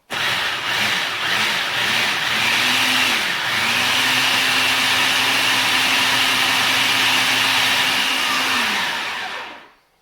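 A blender whizzes basil pesto in a home kitchen, running loud and steady for about nine seconds with a droning motor whine that shifts pitch slightly before cutting out and fading to silence.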